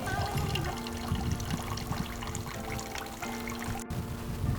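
Clean water runs steadily out of the coolant system of an Audi A4 1.8T during a flush, a continuous close trickle and splash with a faint hum behind it.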